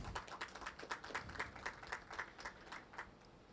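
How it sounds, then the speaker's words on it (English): A warm round of applause at a high-level social protection forum, a faint, distant patter of clapping from a seated audience with individual claps audible in a loose, steady rhythm and no speech. "So let us give them a warm round of applause."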